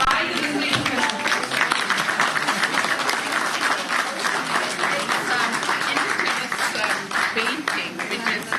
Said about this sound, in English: A big round of applause for our own professors by the visiting professors.